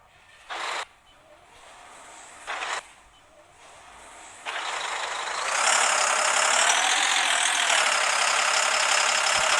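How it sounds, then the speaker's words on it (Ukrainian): A loud tractor engine in a video game roars up after a few short revving bursts, then holds a steady, droning rumble close by. "У цій грі реалістично те, що трактори вони дуже-дуже громкі."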